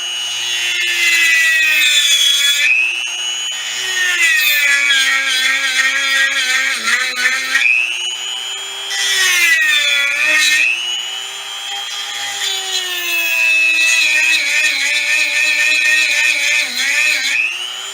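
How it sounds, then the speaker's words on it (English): Dremel rotary tool grinding a deer bone knife blank, a loud, continuous high-pitched whine that rises and falls in pitch as the bit loads and unloads against the bone, with brief pauses around the middle. "So then we break out the Dremel tool."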